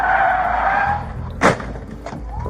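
A car skids with a brief tire squeal and a sharp impact as it rams into a police car, loud and close, over a steady road rumble and engine hum after a drunk driver's run.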